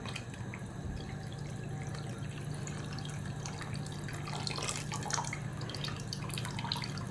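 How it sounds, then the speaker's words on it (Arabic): Water trickles and splashes steadily into a pot of meat tagine cooking over low heat, a soft continuous pour with small drips and a faint low hum beneath. "غنزيد له شويه ماء"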